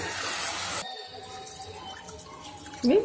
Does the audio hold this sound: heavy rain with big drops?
no